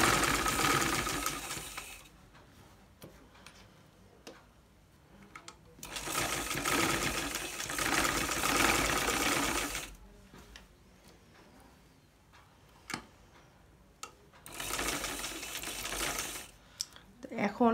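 A sewing machine stitches a zipper onto a kameez in three fast, rattling runs of close, loud stitching. Quieter stretches between the runs hold a voice talking.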